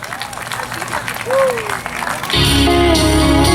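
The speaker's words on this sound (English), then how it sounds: "give a big round of applause" A crowd applauds a singer at a local idol-style talent show, a brief burst of clapping that starts partway through, with a voice and music heard beforehand.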